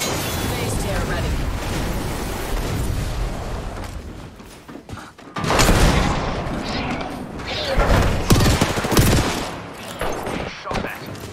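Video game gunfire crackles in loud, dense bursts with booming impacts through a ranked match, close and continuous with sharp peaks, while players talk over it.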